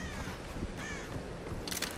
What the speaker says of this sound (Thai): อีกาหน้าโง่ยิงแม่ง